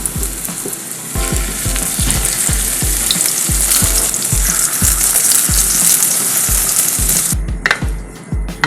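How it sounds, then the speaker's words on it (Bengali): Battered mushrooms deep-frying in hot oil, with a bright, crackling sizzle that runs throughout alongside regular rhythmic scraping or tapping knocks, then a brief clatter near the end. "এবার গরম তেলে আমি এই ব্যাটারটায় মাশরুমগুলো চুবিয়ে একটা একটা করে ভেজে নেব।"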